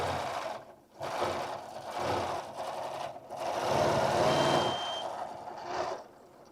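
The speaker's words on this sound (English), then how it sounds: "And then I turn the kickstart on, and I'm going to press the back of the heel, and then we're just going to start stitching around here." A Bernina sewing machine runs in bursts while stitching along a ruler, a close mechanical whir that stops and starts several times, with no talking.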